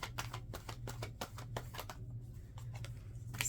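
Tarot cards being shuffled for a reading, a steady run of quick papery riffles and snaps close by, with a low hum running underneath throughout.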